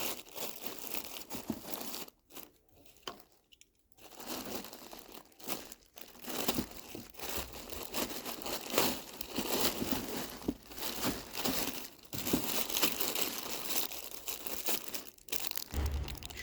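Plastic packaging being crinkled, torn and pulled off a car engine skid plate for a Chery Tiggo 7, continuous close rustling and crumpling with a couple of brief pauses.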